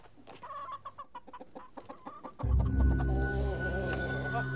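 A chicken clucks in a rapid run of short, evenly spaced clucks, then a louder, denser farmyard bed of sound takes over.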